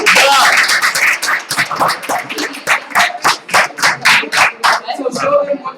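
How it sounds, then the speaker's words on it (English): An audience at a youth STEAM mentorship event claps close and loud, starting as a jumble of hands and then settling into a steady rhythmic beat, with some voices mixed in. "let's give a round of applause"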